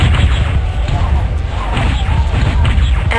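Chain-fired weapons pounding an enemy mech until it is destroyed in MechWarrior 2, a dense run of heavy booming impacts and crashing explosions, loud and rumbling with little pause.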